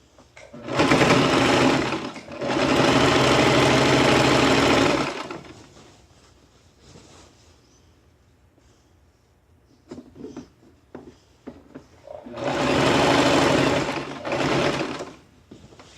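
A sewing machine stitches a draped jacket in loud close bursts: two runs of about two and three seconds, a stretch of quiet handling clicks, then another two-part run.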